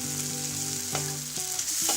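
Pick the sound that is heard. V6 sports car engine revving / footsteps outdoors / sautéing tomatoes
sautéing tomatoes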